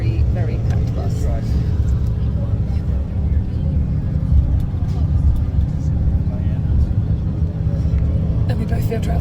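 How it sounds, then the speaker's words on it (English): Steady low engine rumble and road drone from inside a very crowded bus, continuous and fairly loud, with faint passenger murmur underneath. "on our way back to trail on a very, very packed bus"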